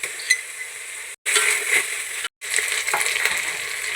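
Whole spices, onion and ginger-garlic paste frying in hot oil in a pan for semiya biryani, a steady close sizzle broken by two brief silences, with light stirring clinks.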